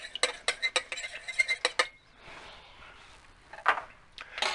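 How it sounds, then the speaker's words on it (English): A mixing utensil knocks and scrapes against the inner pot of an Instant Pot in a quick series of sharp metallic taps, then a quieter stir and a couple of final clinks. "I want to kind of stir this up down here, mix it in a little bit."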